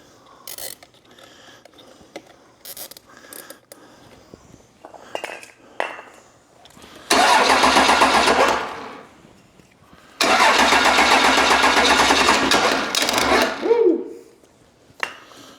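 A 12V Cummins diesel engine, sitting unused for years, cranks with short hesitant bursts and then catches twice in long, loud, rough roaring runs that cut off abruptly.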